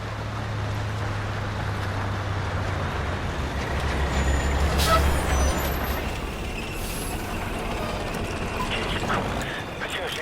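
In the Call of Duty Modern Warfare campaign, an enemy convoy of six vehicles drives past with a low truck engine rumble, hissing air brakes and mechanical clatter, moderately loud and steady before fading at the end.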